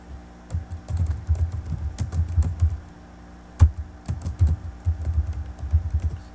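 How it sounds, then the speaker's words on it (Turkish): A post title is typed on a computer keyboard in two quick bursts of close, crisp key clicks separated by a short pause, with a firmer keystroke between them, all heard alone without speech. "Kolaylık açısından başlığı yazıyorum. Enter'a basıyorum."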